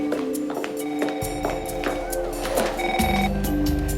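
A telephone rings with short repeated electronic bursts over a steady background hum and faint clatter.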